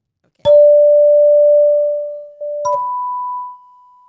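Two hand chimes rung one after another, each a single clear metallic strike that rings on as a sustained pure tone. The second chime is higher pitched. Both are close and loud in an otherwise quiet room.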